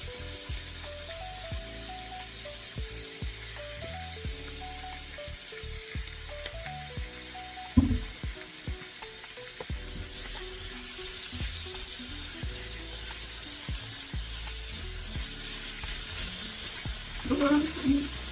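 Sausage and vegetables stir-fry over high heat as sauce goes in, a steady close sizzle with clatter of a spatula stirring and occasional sharp scrapes against the pan.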